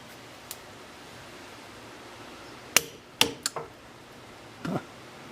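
Pieces of brittle cast iron break off a 6-inch Wilton vise during restoration. A few sharp, close cracks and knocks stand out over a steady background hiss.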